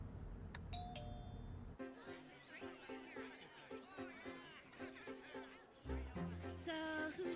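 A bus stop request bell chimes with a bright ding near the start, followed by a busy stretch of voices and another ringing tone near the end.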